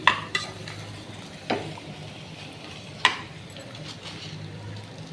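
Onions cooking in a pan for a pumpkin pulusu, with a low steady sizzle broken by a few sharp clinks and scrapes of a spoon against the pan as they are stirred.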